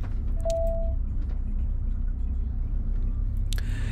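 A motorhome rolls slowly onto a campsite pitch in Spain, a steady low engine rumble and road noise throughout, with a brief whistle-like squeak early and a faint clunk near the end.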